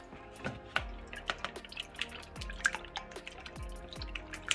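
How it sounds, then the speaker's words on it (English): Eggs beaten with a tablespoon of hot sauce for a sausage and shrimp quiche custard base, giving quick wet taps and drips of a whisk against a bowl, a steady patter of small clicks, close and fairly quiet with no talking. "Let's whisk this first."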